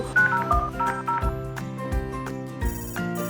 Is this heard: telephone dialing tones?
yes